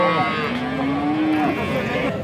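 A cow at a livestock market gives a loud, close, drawn-out moo, while other market noise and voices carry faintly in the background.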